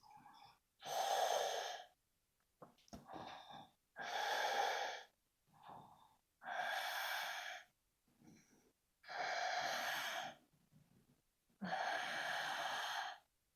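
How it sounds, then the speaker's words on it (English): Deep, slow yoga breaths in a quiet carpeted room: five long, even exhales roughly every two and a half seconds, each soft and airy, with fainter inhales between them. "Last two breaths."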